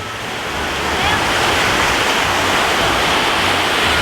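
Sea waves wash onto a beach at Phuket, making a loud, continuous roar of surf that swells in the first second and then holds steady and close.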